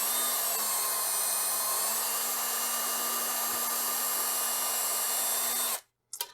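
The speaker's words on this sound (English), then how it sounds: "I'm just going to come in right here, right next to the track, drill a hole." A power drill with a 5/64 bit drilling a hole beside model railroad track, a loud continuous high whine held steadily for about six seconds before stopping abruptly.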